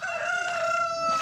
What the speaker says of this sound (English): listening to the chickens